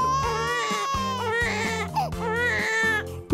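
Babies cry and scream together in a loud, continuous wail, several sharp rising cries overlapping over a steady low drone.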